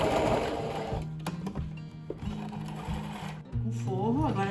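A sewing machine stitches the lining seam of a fabric pouch in short bursts of rapid mechanical whirring with brief pauses between runs, close and steady, while someone talks over it.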